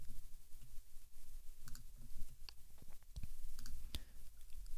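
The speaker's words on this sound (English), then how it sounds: "Right mouse click, copy the link address." A computer mouse clicks a few times, sharp and close, while copying a link during blog setup in WordPress, with a quiet room hum underneath.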